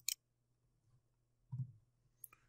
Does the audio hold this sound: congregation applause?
no